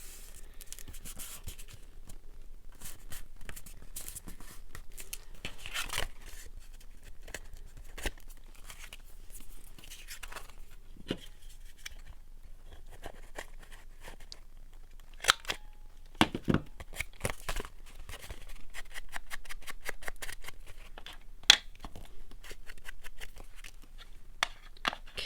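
Scissors snip off the corner of a fabric pocket, producing scattered faint crisp cuts and rustling of material at close range, with no talking.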